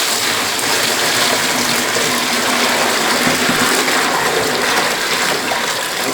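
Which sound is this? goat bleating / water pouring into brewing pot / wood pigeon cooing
water pouring into brewing pot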